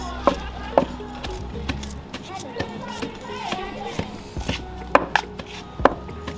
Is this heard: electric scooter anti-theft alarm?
no